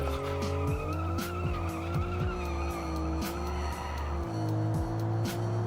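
A car in a video game slides with its tyres skidding and screeching, with a steady high squeal over the revving engine and repeated downshift-like pitch drops and thumps. The sliding continues for several seconds.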